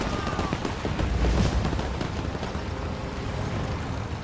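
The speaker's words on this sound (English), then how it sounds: "Firing the mortar." Mortar fire in the World War II strategy game Men of War II, heard as a dense, continuous barrage of booming shots and blasts with sharp repeated cracks, loud and steady throughout amid battlefield noise.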